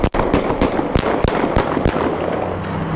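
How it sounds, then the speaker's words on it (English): Gunshots: a series of sharp, cracking bangs go off at irregular intervals, echoing across open ground and fairly close. "That was a man firing a gun into the area."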